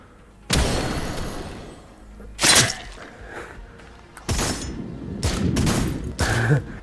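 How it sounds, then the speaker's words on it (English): Bullets fire and deflect off an enemy in Sairento VR, a virtual reality shooter, as a series of loud, sharp bursts with ringing impacts, separated by brief lulls. "he's deflecting my own bullets back at me"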